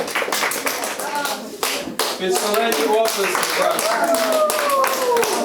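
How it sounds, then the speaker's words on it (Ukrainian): Parents clapping for children at a family camp, sharp scattered hand claps at first that swell into fuller applause, with someone speaking and other voices over the clapping. "Я думаю, що ви їм поаплодуєте, бо вони великі молодці."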